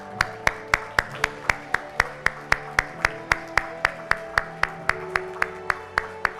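Rhythmic clapping in an even, steady beat at a medical award ceremony as a medal is conferred, sharp regular claps over a low background hum.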